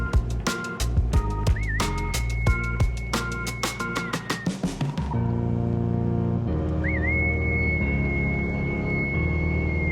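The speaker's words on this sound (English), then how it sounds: "every time feed is put out for them to eat, you whistle." A gamekeeper whistles at pheasant feeding time, a long shrill sustained whistle note with a rising chirp, repeated twice over a clattering, rattling background.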